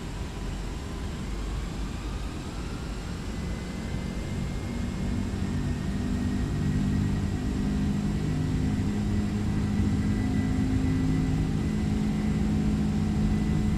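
Engines of a Boeing 767-300F in X-Plane 12 spool up for takeoff, a broad steady roar with rising tonal whine that grows louder over several seconds and then holds.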